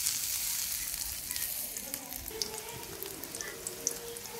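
Sliced onions sizzle in hot oil in a pan as okra bhaji is started, a soft, steady frying hiss with small crackles and pops, fairly quiet and heard alone.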